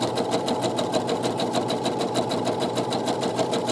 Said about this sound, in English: we're going to just stitch right along that edge